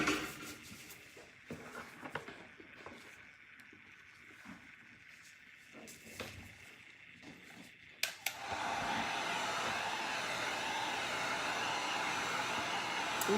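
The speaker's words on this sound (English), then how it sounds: "Can I have the heat gun?" A heat gun blows steadily over a custom cup being prepared for alcohol ink, its broadband whoosh starting abruptly partway through and continuing at constant loudness after quieter handling noises.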